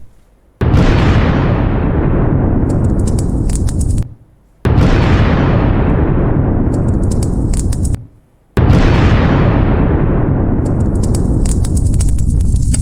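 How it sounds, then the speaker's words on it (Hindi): Three massive explosions in succession, each a sudden loud roaring blast that rumbles and slowly decays, separated by brief near-silences. "भीषण धमाका"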